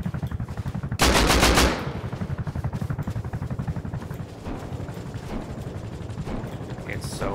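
Rapid automatic gunfire in a video game, a loud dense burst near the start followed by steady rattling fire throughout, with game sound effects layered over it.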